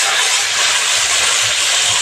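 Potatoes hit hot oil in a wok over fried onions in an outdoor night-time yard kitchen, a loud, dense, continuous hiss of sizzling that fills the whole moment, close up with no voices.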